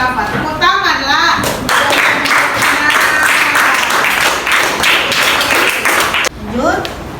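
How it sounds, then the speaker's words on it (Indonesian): A classroom of students claps steadily for several seconds, a dense, close patter of hands, with children's voices heard briefly at the start and end. "100 untuk Rafa. Tepuk tangan lah."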